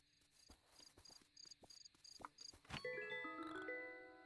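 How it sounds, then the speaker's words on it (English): A cricket in the video game Dinkum chirps in a steady series of short, evenly spaced pulses. Near the end, a bright chiming jingle of game sound effects rises over it and then fades. "Caught a cricket."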